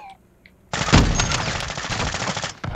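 Sustained automatic gunfire in Call of Duty: Modern Warfare 2, a loud, dense burst of rapid shots starting abruptly and rattling on for nearly two seconds before cutting off, with a brief quieter gap near the end.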